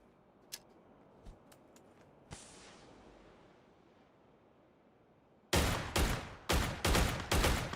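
Gunfire in a PUBG Bangladesh Pro League qualifier match: a few scattered distant shots and a long rolling report, then a loud rapid series of close shots in quick bursts toward the end.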